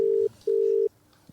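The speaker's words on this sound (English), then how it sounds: "I can hear something ringing." A telephone ringing on a call line, two steady electronic tone bursts, the first brief and the second longer, separated by a short gap, clear and alone, then quiet.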